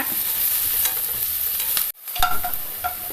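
Onion with spices sautéing in a pan for an omelette curry, a dense crackly sizzle with stirring scrapes, a brief near-silent break partway through, then more frying and clinks, close up.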